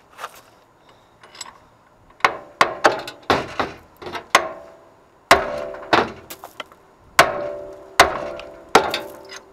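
A big hammer beating on a steering component of a C10 truck during front suspension work, a string of loud, close metallic-wooden whacks in irregular bursts with short pauses, no talk.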